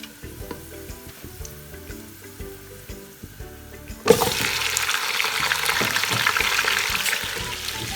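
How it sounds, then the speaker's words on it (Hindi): Beef trotters (paya) for a Lahori beef paya dish drop into a hot pan, and a loud, steady sizzle of frying bursts in halfway through and keeps going, with no talking over it. "इसको हम 20 से 25 मिनट की बुनाई करेंगे।"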